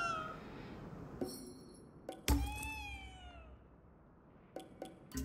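A cat in the video game Ghostwire Tokyo meows several times, with one loud rising meow near the middle, mixed with a few sharp knocks and thuds in a quiet space.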